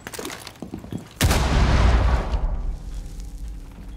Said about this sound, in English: There were at least two of them shooting at me on site.